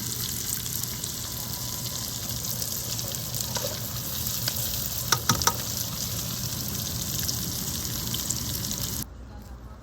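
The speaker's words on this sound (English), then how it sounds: "I'm going to saute those up like that." Potatoes with peppers and onions sauté in a pan at a campsite in DeSoto State Park, Alabama, giving a steady close hiss of sizzling that runs for about nine seconds before cutting off abruptly, with a few brief clinks partway through.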